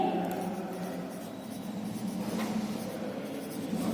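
Numbers being written by hand during a class 4 maths lesson on multiples: a continuous, soft scratching of pen or pencil on paper, close and steady, with no talk.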